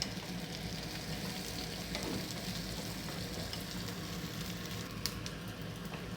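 Sliced onions and tamarind sauté in a pan for a spicy Andhra-style peanut chutney, giving a soft, steady sizzle with faint crackles and no talking.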